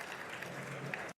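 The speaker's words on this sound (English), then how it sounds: "His wife Sophie giving him a well-deserved round of applause." Applause from the crowd at the 2024 Masters snooker first round at the Palace, a moderate, even patter of clapping in a large hall, fairly distant and cut off abruptly after about a second, with a voice faintly under it.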